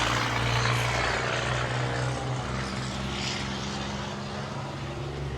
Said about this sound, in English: Bunch of loud trucks.